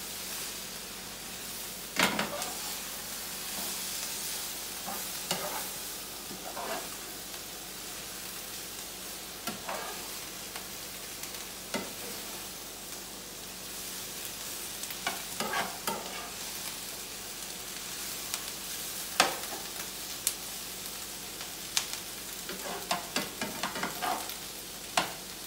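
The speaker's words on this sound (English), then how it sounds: "I'm gonna stir your spices around a little. I'm all flavoring those tomatoes." Spices being stirred into tomatoes frying in a pan for ratatouille, a soft steady sizzle and hiss with intermittent scraping clicks of the spoon, fairly quiet and close, with no talking.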